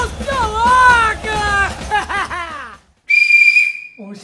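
A referee's whistle in a football video game blows one sharp, loud sustained blast after a stretch of excited talk and calls from people nearby.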